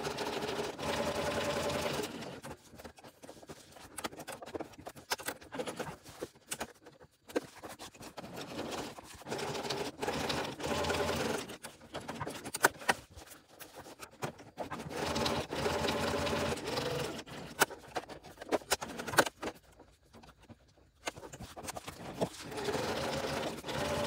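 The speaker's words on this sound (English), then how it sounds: "And now I'll go and sew on either side of these vertical lines the same way as we did for the horizontal lines." A sewing machine quilts straight vertical lines across a tote bag, its needle running in steady bursts with short pauses between passes, close and alone with no talk.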